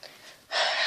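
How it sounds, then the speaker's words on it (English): A short, wet sniffle drawn in through the nose after a faint breathy exhale, close up. "That's why you hear me sniffles."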